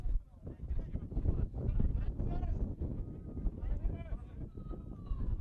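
Wind buffets the microphone at an outdoor football ground at Larissa Reserve during a North Sunshine Eagles versus Brunswick Juventus match, a steady low rumble with gusts running under continuous commentary.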